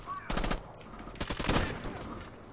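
AK rifle fire in the shooter game Rainbow Six Vegas 2: two loud, close bursts of rapid automatic shots in quick succession, crisp and punchy.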